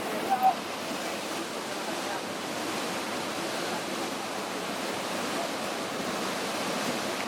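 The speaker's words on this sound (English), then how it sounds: "a small waterfall." A small jungle waterfall at Palmapola, Sri Lanka, gives off a steady, even rush of falling water that stays at a constant level throughout, with no voices over it.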